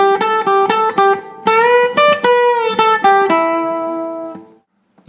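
A guitar plays a phrase of a song, a run of bright, clearly plucked single notes and short chords that ends on a held, ringing note which fades out, heard up close with no talking.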